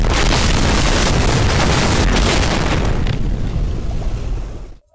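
An anime object self-destructs in a massive explosion, a loud, sustained roaring blast that fills the whole moment and then rumbles down before cutting off abruptly at the end.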